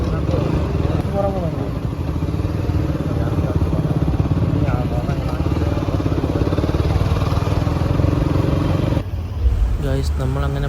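A motorcycle engine runs steadily up close on a very crowded street during New Year celebrations in Changanassery, with its continuous low rumble and idle over the surrounding bustle and voices talking throughout.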